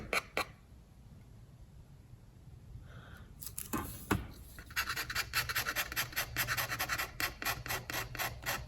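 A steel scraper works across a copper mezzotint plate in short, repeated rasping strokes, sparse and faint at first, then quicker, rhythmic and louder up close, with no speech.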